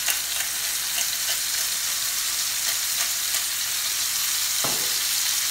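Pork chops frying in a hot pan after being turned over, a loud continuous sizzle and hiss that stays steady throughout, with one brief low knock near the end.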